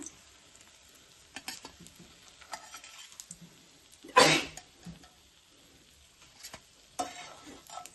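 Brinjal slices frying on a tawa, a faint low sizzle with soft scraping and turning sounds and one louder clatter midway, quiet and close with no talk.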